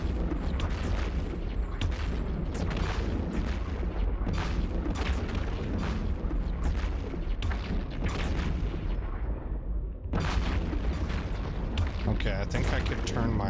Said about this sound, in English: Yeah, those explosions